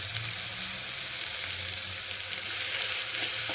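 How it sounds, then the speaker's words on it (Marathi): Ginger garlic paste sizzles loudly in a hot pan, a dense continuous hiss with occasional spatters and stirring scrapes, close and uninterrupted by talk. "आता आपल्याला आलं लसणाची पेस्ट घालायची आहे"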